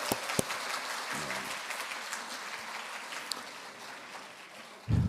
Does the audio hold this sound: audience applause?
yes